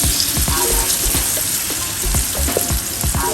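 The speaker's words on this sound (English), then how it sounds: "there is oil heating in it, and now let's add our cauliflower and the paneer here" Cauliflower florets and paneer sizzle steadily in hot oil in a pan for a veg dum biryani, with a constant loud hiss, scattered crackles and pops, and occasional clatter of stirring, with no voices.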